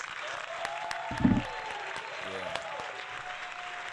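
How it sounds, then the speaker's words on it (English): A round of applause for a guest caller on an interview show, a brief burst of clapping under an ongoing voice, with a shout briefly rising above it. "we're going to go ahead and give her a round of applause right now"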